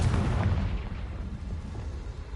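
Confringo, a fire spell in Hogwarts Legacy, goes off in a cave with a loud, booming blast and a rumbling, crackling tail that fades over a couple of seconds.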